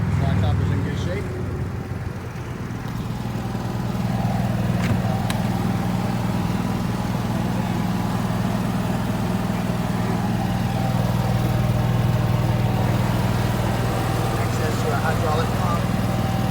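Steady, continuous engine-like drone from a running hydraulic pump on a 2015 Forest River Georgetown 270S motorhome, with a loud, constant hum throughout.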